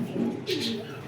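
A Kasuri high-flying pigeon coos briefly at close range: a single soft, throaty coo in a quiet setting.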